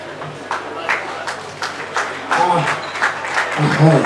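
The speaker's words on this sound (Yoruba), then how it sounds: "ẹ ṣé bí ẹ ṣe pàtẹ́wọ́ fún bàbá wa yìí" Mourners clapping at a burial ceremony, scattered hand claps that thicken into steadier applause, heard close and partly under a speaking voice.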